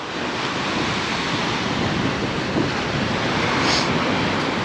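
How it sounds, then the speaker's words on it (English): Atlantic Ocean surf along the Outer Banks, a steady broadband wash of breaking waves mixed with wind buffeting the microphone, loud and continuous throughout with no voices. "The Atlantic Ocean is now known as Big Blue."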